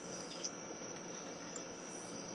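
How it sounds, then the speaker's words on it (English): Crickets give off a faint, steady high-pitched chirring that continues unbroken through a quiet background. "You hear the crickets?"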